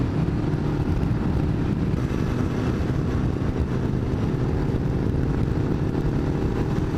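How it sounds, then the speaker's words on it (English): A loud motorcycle engine drones steadily and close for the whole stretch, a continuous low rumble heard from a ride along on the road with no talking. "Bike's loud though."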